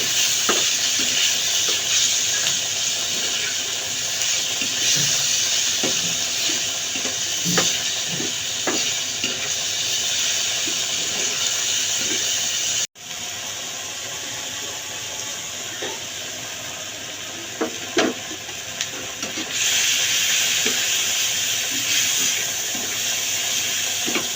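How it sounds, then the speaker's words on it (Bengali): Chicken with ginger-garlic paste fries in oil in a pan, a steady close sizzle and hiss broken by occasional stirring clicks, with a brief cut midway and no talking. "আমি চিকেনটাকে একটু ভাজা ভাজা করে নেব।"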